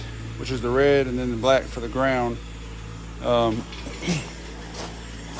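A steady low mechanical drone from a tractor's running PTO continues throughout beneath someone speaking close up, a constant engine-like hum in the background.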